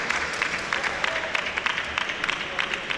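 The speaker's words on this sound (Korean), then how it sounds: "박수가 나오죠." Audience applause breaks out in a hall during a women's team table tennis match, a moderate wash of clapping that stays fairly steady for about three seconds, with a faint voice underneath.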